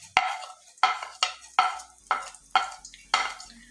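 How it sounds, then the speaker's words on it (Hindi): Cumin seeds fry in cooking oil in a pan while a spoon scrapes and stirs in about seven distinct, evenly spaced strokes, each sharp and close, with quiet sizzling between. "और ज़ीरे को थोड़ा सा फ्राई कर लेंगे।"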